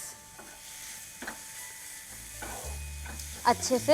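Chicken is stirred and mixed in a hot pan with coriander and salt, producing soft sizzling, scraping and clattering sounds that build toward several louder knocks at the end, while a voice speaks briefly.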